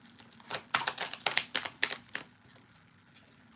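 A tarot card deck shuffled by hand during a live reading, a burst of crisp papery riffles and slaps that fades to quiet, close and moderately loud, with no speech over it.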